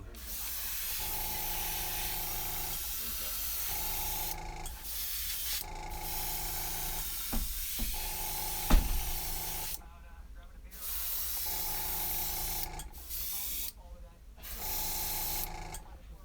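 An airbrush spraying paint onto a wooden eagle walking staff, giving repeated hissing bursts of a few seconds each between short pauses, with faint background noise and a sharp knock near the middle.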